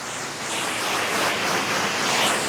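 A water spray delivers the first contact rinse across a dirty car during mobile detailing, a steady, loud hiss of water striking the body panels that holds without a break.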